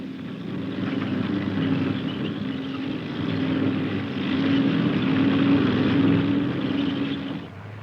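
A military earthmoving vehicle's 250-horsepower liquid-cooled V8 diesel engine drones steadily and fairly loudly, swelling slightly midway before easing off at the end.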